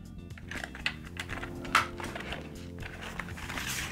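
Soft, irregular key clicks from a computer keyboard being tried out during a comparison of Nisuta, Noga and Logitech models, quiet and close with a faint steady hum beneath.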